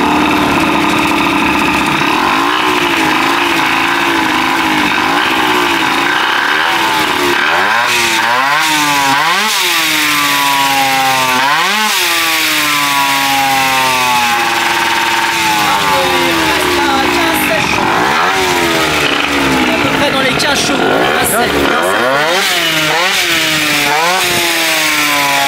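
A 1985 MBK 51 CF moped engine starts and revs on a racetrack, its pitch sweeping up and down in repeated throttle blips, loud and close, with people talking over it at times.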